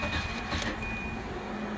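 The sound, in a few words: Volvo 940 inline fuel pump running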